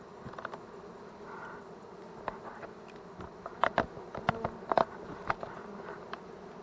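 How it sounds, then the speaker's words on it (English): Honey bees fan the entrance of a hive inside a water meter box, giving a continuous close buzzing drone broken by scattered sharp clicks and taps. "they're fanning the entrance to the hive"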